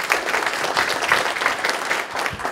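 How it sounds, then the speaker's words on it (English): Steady applause from a leadership conference crowd welcoming a speaker, many hands clapping densely and loudly without pause throughout. "have a round of applause for my new friend, Tony."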